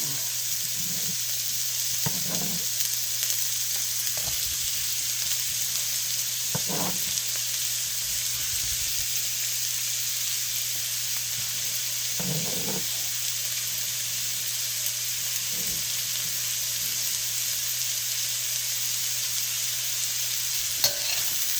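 Celery and carrots fry in a pan with a continuous soft sizzle, punctuated every few seconds by brief clatters of stirring.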